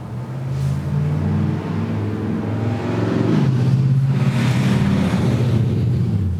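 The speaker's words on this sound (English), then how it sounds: "That was the loudest, slowest truck I've ever heard." A loud, slow truck rumbles past a woodworking shop, its deep engine drone building steadily and holding for several seconds with a shifting gear-like pitch change midway, no voices.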